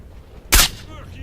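A single gunshot in STALKER: Shadow of Chernobyl rings out as one sharp, loud crack with a brief booming tail, standing alone against quiet game ambience.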